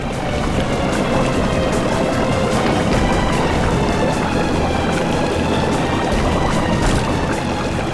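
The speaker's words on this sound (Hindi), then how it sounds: "सर, पानी भर रहा सर।" Water rushes and pours continuously into a boat, a loud, steady churning wash with no pauses and no voices.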